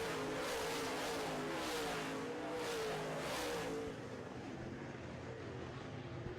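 Late model stock cars race past on a dirt oval during a heat, their engine roar swelling and fading as the pack sweeps by, loud and steady before easing to a lower drone.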